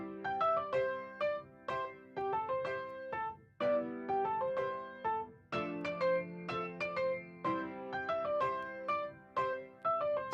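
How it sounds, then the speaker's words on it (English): Melodic plucked-note music run through a 16-track tape machine emulation at 15 IPS, slightly dulled on top with mild gritty breakup, played quietly with no talking. "I ran it through a tape machine emulation"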